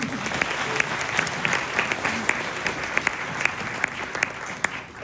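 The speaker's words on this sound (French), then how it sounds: "On peut l'applaudir s'il vous plaît" An audience at a convention talk applauds, a steady wash of clapping with sharp individual claps standing out, moderately loud, with no talking over it.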